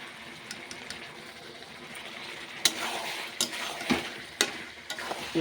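Meat sizzling as it is browned and stirred in a pot with turmeric before water goes in, with a quiet steady fry broken by sharper spoon scrapes and clinks toward the end.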